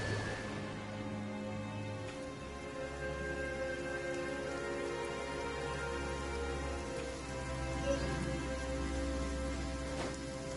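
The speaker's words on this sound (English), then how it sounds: "Don't stay out in the rain for too long." Steady rain in Genshin Impact patters continuously over a soft background of sustained musical tones, even and unbroken throughout.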